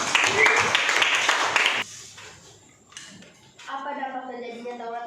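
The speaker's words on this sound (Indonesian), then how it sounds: "Beri tepuk tangan." Audience applause after a student group's presentation in a classroom lesson: a loud burst of clapping from many hands for about two seconds, then it stops abruptly, followed by quieter sounds and a voice talking.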